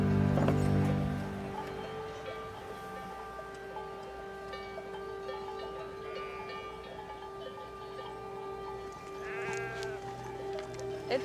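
A flock of sheep bleats repeatedly, near and far, while shepherds ready the herd for the seasonal move to summer pasture, with a steady low hum and occasional faint voices underneath.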